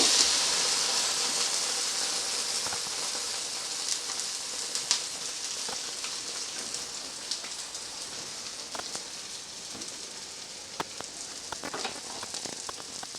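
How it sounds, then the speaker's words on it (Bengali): An egg omelette fries in a pan with a continuous, even hiss that slowly softens, broken by scattered small pops and crackles, close and without talk. "ডিমটা আমার পুরোপুরি ভাজা হয়ে গেছে"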